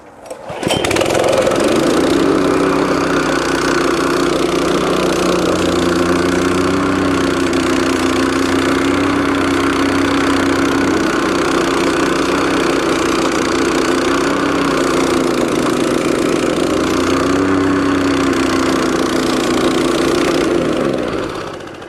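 A plate compactor's small engine starts and runs steadily at close range, a loud continuous mid-pitched drone with a vibrating, slightly knocking rumble that holds even for about twenty seconds before cutting off, no talking.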